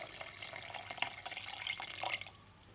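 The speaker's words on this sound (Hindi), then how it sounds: "अब हम इसमें डालेंगे पानी।" Water is poured from a glass over peeled peaches in a pot for juice, a soft continuous splashing and trickling that stays fairly faint, with no talk.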